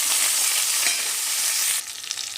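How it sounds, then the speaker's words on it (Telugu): Cumin seeds frying in hot oil in a kadai, a steady loud crackling sizzle that drops to a softer, sparser spatter near the end, close up with no voices. "ఇదే కడాయిలో నూనె మనకి కొంచెం ఎక్కువే తీసుకున్నాం కాబట్టి అందులోనే మనం కొంచెం జీలకర్ర వేసుకుని ఇది ఫ్రై అయిన తర్వాత"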